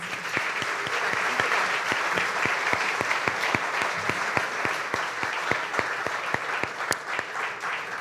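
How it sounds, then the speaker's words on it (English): An audience at a community crowdfunding event applauds a presenter with steady, even clapping. A few sharper individual claps stand out above the sustained sound. "let's give Johnny another round of applause"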